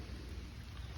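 Rain falls steadily on a family pond during a rainy summer fishing outing, a continuous dense hiss with low rumbling underneath and no voices.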